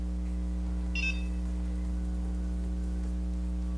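A single short, high electronic beep from a NuFACE Trinity Mini microcurrent facial device sounds once over a constant low electrical hum.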